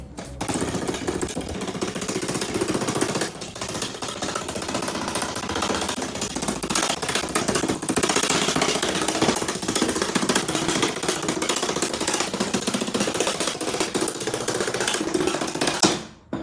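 Rivets are drilled out of a MacBook case, producing a continuous, loud, harsh grinding buzz that holds steady for about sixteen seconds before cutting off, with no voices.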